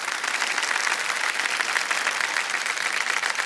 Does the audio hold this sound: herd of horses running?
no